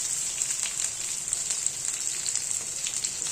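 Two large sliced onions sizzle and fry steadily in a pan, a dense close crackle with light stirring scrapes and no voices.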